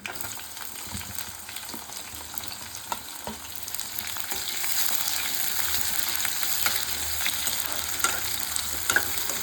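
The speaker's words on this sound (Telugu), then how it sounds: "ఉల్లిగడ్డలు వేసుకోవాలండి" Onions sizzle steadily in a pan for a homemade gongura pappu, a close, even hiss that thickens partway through, with light scattered crackles and occasional soft clinks.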